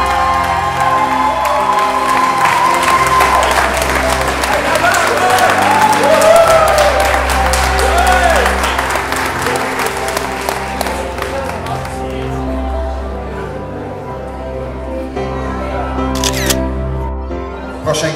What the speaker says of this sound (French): je vous demande de l'applaudir parce que c'est quelqu'un de timide